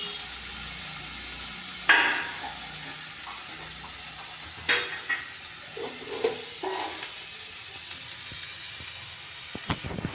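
Mushrooms frying in a pan as turmeric powder goes in: a constant close hiss of sizzling with occasional spoon knocks and stirring scrapes, one sharper clack early on; no voices.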